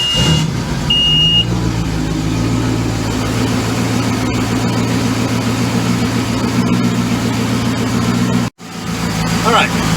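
A Volvo Penta 5.0 marine engine fitted with new stainless steel exhaust manifolds runs steadily at idle, a continuous low mechanical drone close by that holds level throughout, with one brief dropout near the end.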